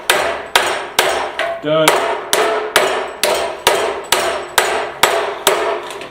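Hammer blows forge a steel garden cultivator in a steady rhythm, about a dozen loud, sharp metallic strikes, each ringing briefly before the next, with one short tonal ring partway through.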